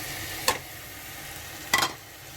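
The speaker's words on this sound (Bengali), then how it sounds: "লাউ দিয়ে ডাল দিয়ে এটাকে একটু নাড়িয়ে দিচ্ছি" Two short scraping stirs of a spoon through bottle gourd and lentils in a spiced masala pan, over a low steady sizzle of frying.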